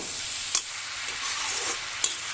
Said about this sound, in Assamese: ইয়াত গোটেইখিনি সামগ্ৰী ভাল কৰি মিক্স কৰিম।